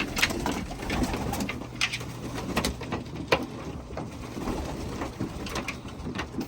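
Pigeons in a clean loft cooing and fluttering near at hand, a steady backdrop of soft calls with occasional sharper wing flaps and scuffs.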